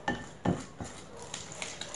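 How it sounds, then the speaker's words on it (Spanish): Spatula scraping and stirring thick, creamy no-bake cookie mixture around the edges of a pan, a few distinct scrapes and knocks at the start, then softer continuous stirring with faint sizzling underneath. "Ahora con una miserable las vamos a revolver bien por las orillas que se pegan."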